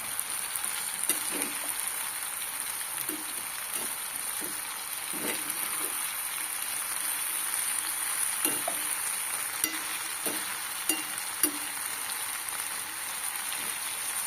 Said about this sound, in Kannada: ಕರಿಬೇವು, ಇದು ಹಾಕಿ ಒಂದು ಸ್ವಲ್ಪ ಇದು ಹಸಿ ವಾಸನೆ ಹೋಗ್ತದಲ್ಲ ಅಲ್ಲಿ ತನಕ ಇದನ್ನು ಮತ್ತೊಂದು ಸ್ವಲ್ಪ ಹುರ್ಕೋಬೇಕು